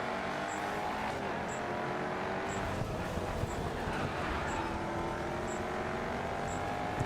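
A Bugatti race car's engine in GRID 2 drones steadily and loudly through the whole stretch, a constant mechanical roar with faint game music and small periodic blips riding above it.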